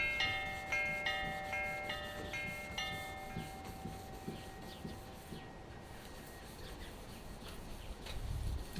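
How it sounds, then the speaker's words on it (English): Close, continuous rubbing and scratching of hand sanding on the metallic paint of a 1966 Ford Galaxie 500 convertible body, with steady back-and-forth strokes and some faint tonal ringing early on. "It's actually sanding out quite nice."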